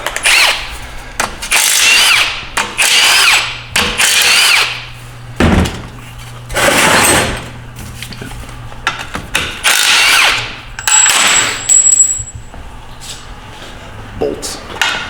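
A cordless impact tool whirs in repeated short bursts while removing the transmission mount bolts from a 1997 Ford F350 with a ZF5 gearbox. The bursts are loud and close, separated by clanks, tool handling and someone speaking.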